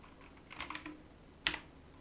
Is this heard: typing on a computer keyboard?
yes